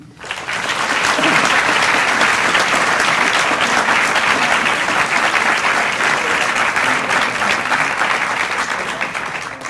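A conference plenary audience bursts into loud, sustained applause, rising quickly, holding dense and full for nearly ten seconds, then tapering slightly at the end.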